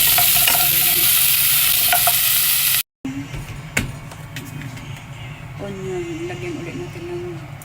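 Potatoes stirred and fried in a little oil in a pan, a steady sizzle with scraping stirs and a brief clatter, someone talking quietly over the cooking.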